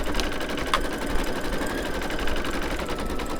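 Embroidery machine stitching a quilted baby bib in the hoop, a steady fast mechanical whir and needle chatter running continuously at close range with no pauses.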